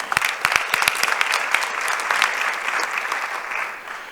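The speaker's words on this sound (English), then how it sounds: "let's give them a round of applause as well" An audience at a superintendents' panel event gives a round of applause, loud close claps with sharp individual hits at first, settling into a steady sustained clapping that tapers off at the end.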